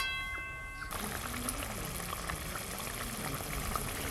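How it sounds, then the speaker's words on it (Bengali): Water is poured into a spicy tilapia fish gravy as it cooks, starting with a sudden splash that settles into a steady close rush and bubbling. "এবার পরিমাণ মতো জল দেব।"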